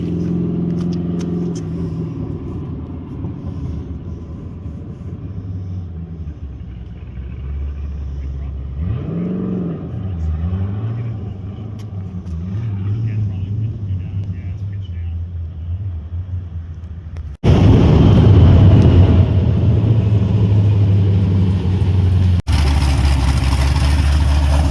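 A 600+ hp sand car on a street rumbles with a deep engine drone that swells into a louder, harsher roar near the end, with faint voices underneath.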